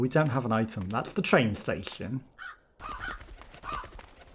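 Crows in the video game Crow Country give a quick run of harsh, rasping caws up close. A person then talks over a quieter background.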